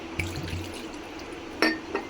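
Chhena for rasgulla being rinsed by hand in water, heard as soft close splashes and trickles with a brief louder slosh near the end.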